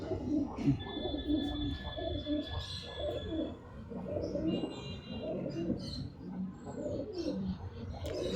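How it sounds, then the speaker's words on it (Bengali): Pigeons cooing close by in a low, repeated throaty rhythm, with rustling, a few faint chirps and brief soft voices in the background. "পায়রা তোমাদের তো দেখলেই বুঝতে পারবে যে কত অ্যাক্টিভ পায়রা হাতে থাকতেই চাইছে না"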